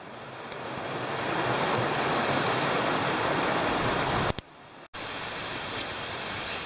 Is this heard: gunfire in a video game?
no